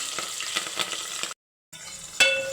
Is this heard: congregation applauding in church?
no